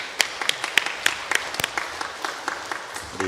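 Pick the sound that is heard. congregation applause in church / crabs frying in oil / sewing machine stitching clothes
congregation applause in church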